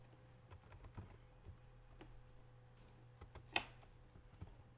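Computer keyboard keys being pressed and clicked, a sparse series of soft close taps with one sharper click, quiet over a faint electrical hum.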